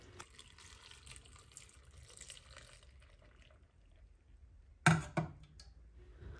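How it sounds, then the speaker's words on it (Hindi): Water poured slowly into a glass jar of mixed vegetable and mango vinegar pickle gives a faint, steady trickle, ending with a brief sharp clink and splash near the end. "आहिस्ता आहिस्ता हम इसमें पानी डालेंगे"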